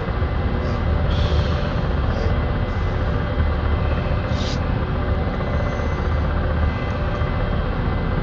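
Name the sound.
Ka-50 helicopter engines starting up in DCS video game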